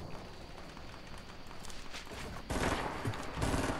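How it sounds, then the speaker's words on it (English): Rapid gunfire crackles from several directions in a Fortnite match, a steady dense patter that turns louder and sharper partway through, with no talk over it. "they're shooting from me from everywhere"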